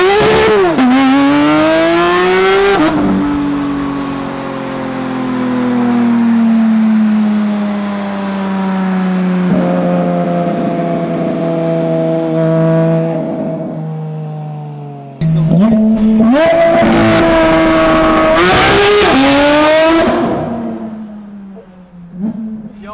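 A loud Porsche GT3 RS sports car engine revs hard, then settles into a steady rumbling drone before roaring up again in sharp, rising bursts near the end.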